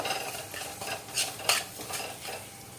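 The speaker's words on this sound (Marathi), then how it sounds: "आणि मस्त असा खमंग वास येईपर्यंत त्याला खरपूस असं भाजायचंय" Roasted semolina and mashed banana are stirred in a pan until golden for sweet shira, with rhythmic spoon scrapes and light sizzling, close up and with no voices.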